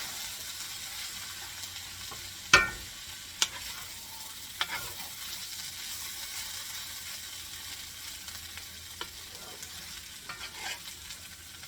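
Spam fried rice with vegetables and rice tossed in a hot pan, soft continuous sizzling under sharp spatula scrapes and clacks, one loud knock early and several lighter taps after, close and fairly quiet.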